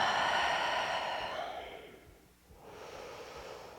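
Breath during a yoga exercise: a long, soft airy exhale fades to near silence, then a fresh inhale begins, calm and close, with no talking.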